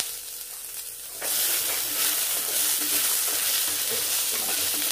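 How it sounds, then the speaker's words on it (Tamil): Shallots and coconut hit a hot kadai for a spinach-stem kuzhambu, and the sound jumps abruptly into a loud, steady, close sizzle that continues unbroken to the end. "லைட்டா இப்படி வதக்கினா போதும்"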